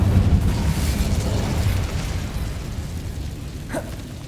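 A fiery Incendio spell bursts in Hogwarts Legacy, a dense, rumbling blast that swells at once and slowly fades over a few seconds, with a small crackle near the end.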